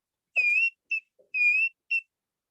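A human whistling an imitation of a cuckoo call in Kirstenbosch botanical gardens: four clear, high tonal phrases with short pauses between them, with no talking.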